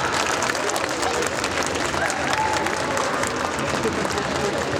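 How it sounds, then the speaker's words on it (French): Loud, sustained applause from a stage-show audience at a Japan pop show contest in Mons, with dense clapping and crowd noise filling the whole stretch without a break. "On l'applaudit très très très fort."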